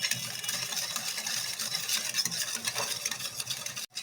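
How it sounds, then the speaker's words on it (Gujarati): Citric acid and sugar are stirred in a bowl to dissolve for nylon khaman batter, a close scraping, swishing stir that keeps a continuous uneven rhythm before a sudden short break near the end. "1 મિનિટ માટે આ રીતે ઓગાળી લઈશું લીંબુના ફૂલ અને ખાંડને"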